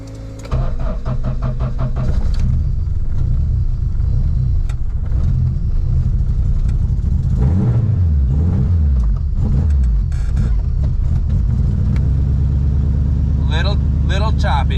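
A car engine cold-starts on a 40-degree morning: a brief crank, then a loud, steady, slightly choppy idle that holds throughout, with a voice talking over it.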